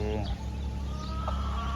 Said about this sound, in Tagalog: Ayan, mga sisiw. Mga native chicken.